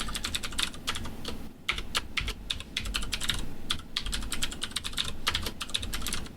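Rapid, steady clatter of keys on a computer keyboard, typed quickly in bursts with brief pauses, close and fairly quiet.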